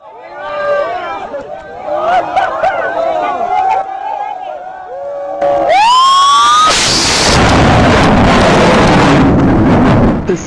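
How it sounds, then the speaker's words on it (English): Two low-flying supersonic fighter jets approach with rising engine whines, then a loud, sustained roar that fills the last few seconds, with voices heard before the roar. "Next, the engine sounds of 2 low-flying supersonic fighters."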